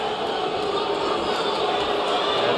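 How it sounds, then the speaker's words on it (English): An arena crowd at a boxing fight gives a steady, dense murmur and roar, loud and continuous, with a voice faintly audible in the mix. "you can hear the reaction from the crowd"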